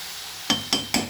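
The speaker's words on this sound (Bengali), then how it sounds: "এই দেখুন একটা ডিম আমি ফাটিয়ে এর মধ্যে দিয়ে দিচ্ছি" An egg is cracked into a pan of frying vegetables, heard as three quick, sharp taps against the pan rim, close and crisp, over a faint background hiss.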